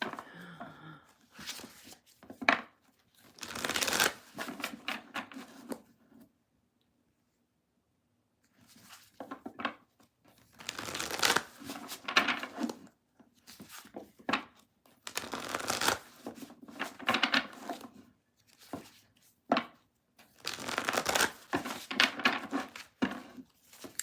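Tarot cards being shuffled in repeated bursts of crisp riffling and papery patter, close and fairly quiet, with a few seconds of silence between bursts.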